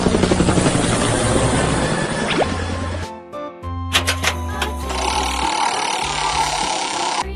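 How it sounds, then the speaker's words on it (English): A helicopter toy sound from a children's learning game, a steady whirring rotor-and-engine drone that runs throughout, loud and alone with no talking. "Helicopter."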